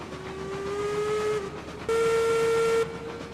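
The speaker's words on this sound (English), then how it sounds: "How's the whistle sound back there?" A steam locomotive whistle in a train video game sounds twice, a steady tonal blast followed by a louder, longer one, over a constant rumbling background.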